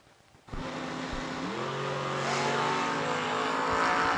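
A drag racing car launches off the Christmas tree at World Wide Technology Raceway, its engine bursting from near silence into a loud, sustained roar that climbs steadily in pitch as it pulls away down the strip.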